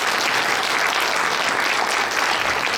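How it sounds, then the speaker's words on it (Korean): Warm welcoming applause at a book lecture event in the Korea Press Center, Seoul, thick continuous clapping from a large crowd filling the whole moment at steady loudness. "환영의 박수 한번 부탁드리겠습니다"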